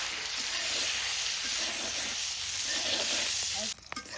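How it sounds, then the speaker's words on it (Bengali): Eggs sizzle and fry steadily in hot oil in a wok, a dense continuous hiss holding close and loud, with a brief clatter of stirring near the end. "ডিমটা ভালোভাবে ভাজা হয়ে গেছে"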